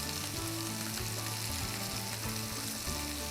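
A mushroom risotto bubbles and sizzles steadily in the pan after more stock is added, with a constant close frying hiss throughout.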